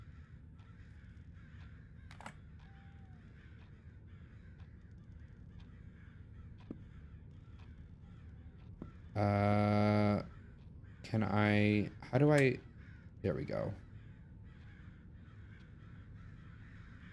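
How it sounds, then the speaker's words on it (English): Crows caw outside in the video game Summer of '58, several loud harsh caws in a cluster near the middle over a faint ambient hum, with a brief spoken remark. "A lot of crows outside."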